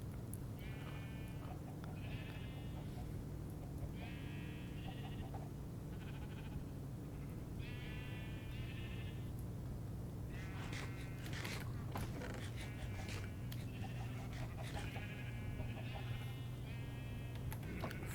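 Repeated sheep bleats from Minecraft, short wavering cries coming in clusters over a steady low background hum, with occasional creaks and clicks between them.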